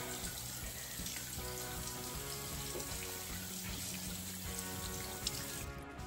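Tap water runs steadily into a sink as sunscreen is rinsed off a face, making a soft, constant splashing hiss that stays faint and even from start to finish, with no talking.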